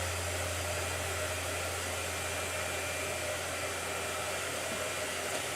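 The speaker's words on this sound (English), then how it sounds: "Tell me if you guys can hear the blow dryer better or me." A blow dryer runs steadily throughout, a loud and constant broadband whoosh with a low hum beneath it, close to the microphone and with no one speaking.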